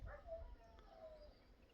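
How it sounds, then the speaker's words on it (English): A faint, distant dog gives a brief odd whimpering yip in rural Bulgaria, quiet against a low background hum. "It's a weird dog one."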